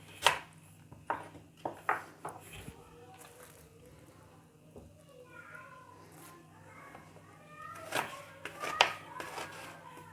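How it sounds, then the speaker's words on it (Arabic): A knife chopping onion in a home kitchen while grilled chicken and vegetables are prepared, with a series of sharp, close taps in irregular clusters and soft background sounds between them. "وهقطع البصل"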